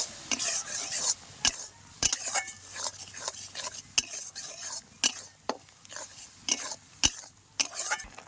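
Close-up stirring of tamarind chutney with taro in a pan, a spoon scraping and tapping the metal in an uneven rhythm over a soft sizzle.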